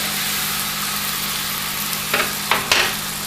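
Butter sizzles steadily in a hot pan while tortillas are made, a constant close frying hiss with a few brief louder crackles and spits near the end.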